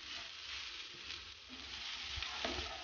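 Drops of sesame oil sizzling in a hot pan of Peruvian chaufa fried rice, a steady close frying hiss throughout with a few brief louder crackles.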